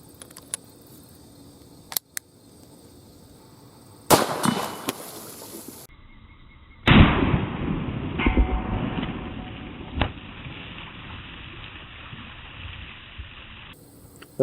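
Two sharp, loud reports from a GP100 revolver firing .357 Magnum Buffalo Bore 180-grain rounds, the second followed by a longer ringing decay, with quiet handling clicks between shots outdoors.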